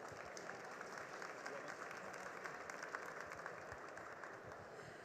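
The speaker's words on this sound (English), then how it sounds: "Let us give them a big round of applause." An audience at the Hannover Messe 2023 business summit gives a steady round of applause, dense and even throughout, heard at moderate distance in a large hall.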